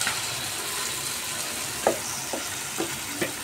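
Chicken pieces dropped into a hot pan for a homemade chicken kurma, a steady close sizzle with a few soft stirring knocks and clinks rising over the frying hiss.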